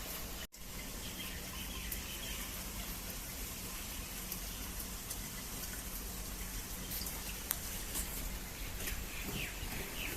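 Steady morning rain patters after a night of rainfall, a soft continuous hiss with faint birds calling in the distance and a few scattered drips, quiet and unbroken throughout.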